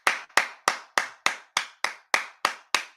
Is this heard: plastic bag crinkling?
no